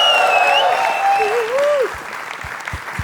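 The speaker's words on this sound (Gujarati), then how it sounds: "જોરદાર તાળીઓ થઈ જાય ગાઈસ" A studio audience at a comedy show applauds to welcome a guest, loud clapping and crowd noise with rising whistle-like cheers at first, then scattered thumps as it fades.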